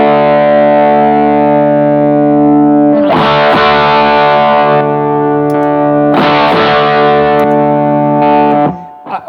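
An electric guitar run through a Boss GX-10 multi-effects unit with an overdrive set close to a Crowther Hotcake plays sustained, loud, gritty chords, with a few fresh strums that ring out and then cut off at the end.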